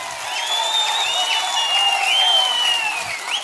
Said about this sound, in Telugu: చేస్తామంటే ధైర్యంగా చప్పట్లు కూడా చెప్పండి, మేము చేస్తామని.